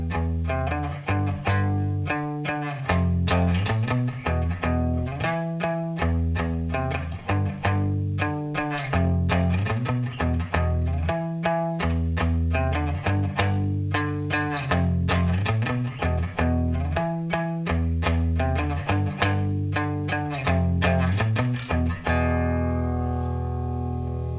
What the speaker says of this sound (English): So that all chained together, played slowly, sounds like this.